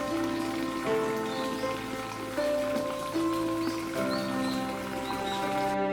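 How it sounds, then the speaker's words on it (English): Rain falling at a misty site in Kumamoto, a steady, even patter throughout, mixed with a sustained tonal hum that stays constant underneath. "The rain and mist made the whole atmosphere seem more mysterious and magical."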